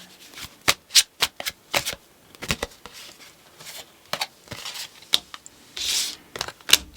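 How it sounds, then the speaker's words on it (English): Tarot cards are shuffled close up in rapid, crisp bursts of riffling and flicking, with short pauses between runs and no talking. "Please show us the cards, Ahu."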